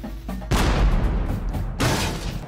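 A heavy, booming concert bass drum hit with a cannon-like thud at a middle school percussion audition, then a second strike, both deep and resonant.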